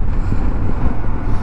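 Strong northerly crosswind buffets a motorcycle rider's camera on Dartmoor, a steady low roaring rumble of wind noise with gusty fluctuations throughout, close and loud with no speech.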